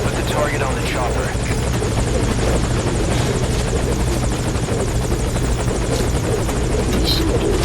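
A helicopter in Metal Gear Solid V: Ground Zeroes hovers at a landing zone, its loud, steady rotor thrum and turbine whine filling the whole stretch without a break, with voices faintly in the mix.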